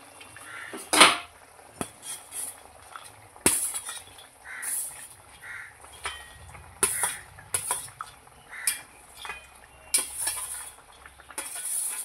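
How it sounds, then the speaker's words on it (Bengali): Fried moya fish dropped into a pot of boiling curry broth, heard as scattered clinks and scrapes of a utensil against the pot, with soft bubbling and sizzling underneath at close range, no voices. "এবার আমি দিয়ে দিচ্ছি ভেজে রাখা ময়া মাছ"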